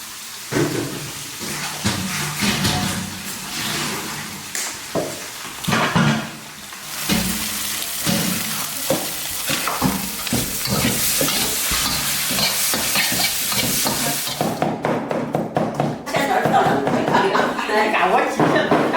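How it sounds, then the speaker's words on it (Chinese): Food fries in a pan with a little oil in a rural kitchen, a steady sizzle with stirring and scraping that grows louder toward the end, while people talk over it throughout. "我都是这样煎的"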